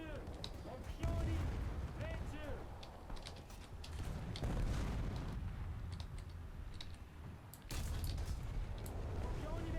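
Tank cannon shots in a War Thunder battle boom out as heavy blasts with rumbling tails, several spread across the stretch over continuous engine and battlefield noise, with a voice talking over it.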